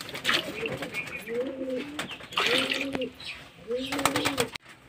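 Several pigeons coo in repeated rounds nearby, close and moderately loud, restless while waiting for drinking water at a loft, with soft background rustling.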